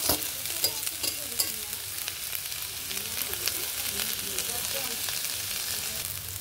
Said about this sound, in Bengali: তবে আমি আরেকটু ভেজে নেব, ভাজা ভাজা করে তারপরে নামাবো